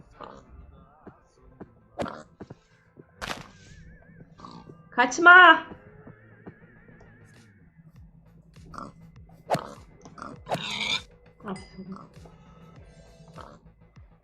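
A Minecraft pig grunts and squeals in a short burst midway, with a few fainter snorts, while a person talks over it.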